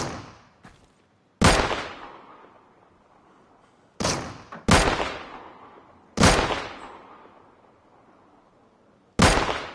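Sharp, loud gunshots in the Deadside shooter, single cracks spaced a second or two apart, each ringing out with a long echoing decay; about six shots in all, no talking.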